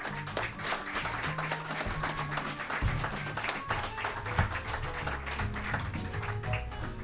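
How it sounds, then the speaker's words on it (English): Audience applause after a theatre performance curtain call, a steady wash of clapping that carries on without a break over a bed of music or background noise. "One more round of applause."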